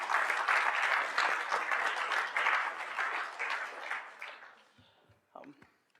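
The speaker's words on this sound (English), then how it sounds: "Round of applause for Chris." A round of applause from the audience at a DevNet 2022 forum debate and awards event, steady dense clapping for about four seconds before it thins out and fades, with a few scattered claps at the end.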